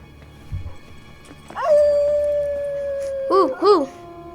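A dog howls with a long, drawn-out rising tone and then gives two short wavering yips, close and fairly loud. A dull thump comes just before it.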